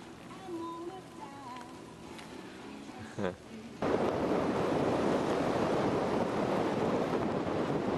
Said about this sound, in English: It's pretty windy.